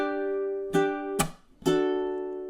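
Ukulele strummed in a down, chunk, up pattern with a chord change: a ringing chord, a percussive muted chunk, then bright strokes, a short close rhythmic phrase with no talking.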